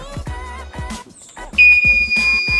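A Danfoss EKE 347 controller alarm beeps when a reading drops below 15%, a sustained high-pitched tone coming on partway through, over a bed of rhythmic music-like background sound.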